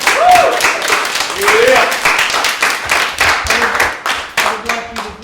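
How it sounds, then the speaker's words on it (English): A group claps together after a live talk session, with uneven bursts of clapping and a few voices speaking over it. "Give yourself and each other a round of applause."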